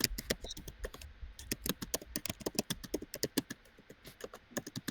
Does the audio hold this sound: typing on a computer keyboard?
yes